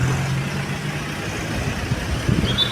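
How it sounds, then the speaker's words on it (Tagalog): Vehicles rolling over a freshly asphalted stretch of Roxas Extension, a low engine drone with a steady hum, rumbling nearby and rising slightly at the end. "pinapadaanan nila ng sasakyan"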